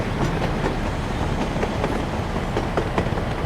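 Train running in the Soviet-style city-building game Workers & Resources, with a steady rolling rumble and rhythmic clickety-clack of wheels over rail joints, continuous and fairly close, no voices.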